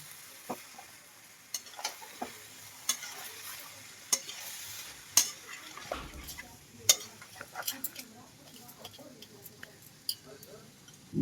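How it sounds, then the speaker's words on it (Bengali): Spinach with a little sugar is stirred as it fries in a pan, a soft sizzle under sharp intermittent taps and scrapes of a spoon against the pan, close by. "এবার ভালো করে একটু নাড়িয়ে চাড়িয়ে দিচ্ছি"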